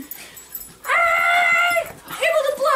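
A pet dog at home whimpers and yips close by, giving two loud, drawn-out high whines separated by a short pause.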